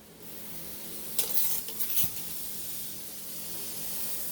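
Butter sizzles in a hot pan as Fruity Pebble French toast fries, a soft steady hiss with a brief burst of louder crackling and spattering in the middle, faint and close with no voices.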